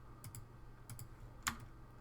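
Keys on a computer keyboard are tapped while someone writes JavaScript code: a few quiet, scattered clicks in small pairs, ending with one sharper keystroke, over faint room hum.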